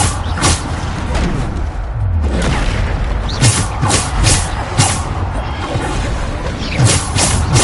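Repeated Bombarda spell explosions in the video game Hogwarts Legacy: several sharp booming blasts with crackling bursts recur every second or so over a dense, continuous layer of combat noise.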